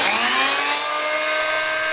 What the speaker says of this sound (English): using a handheld reciprocating saw